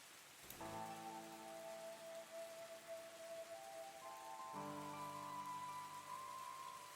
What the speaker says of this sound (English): the rain becomes kind of misty and light